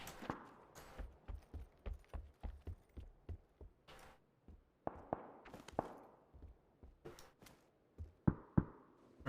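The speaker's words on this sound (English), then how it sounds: "I heard a footstep." Footsteps in a first-person shooter game tap out a steady series of distinct hard steps, close and fairly quiet, with a few sharper knocks and clatters near the end and no talking.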